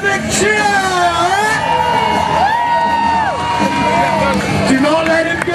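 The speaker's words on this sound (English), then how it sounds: "give him a big cheer!" A crowd of participants at a Tough Mudder South West 2013 obstacle, the Everest, lets out a big loud cheer with whoops and yells, sustained and close, with shouting voices mixed in.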